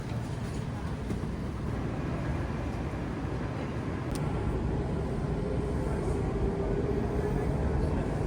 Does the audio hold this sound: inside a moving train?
yes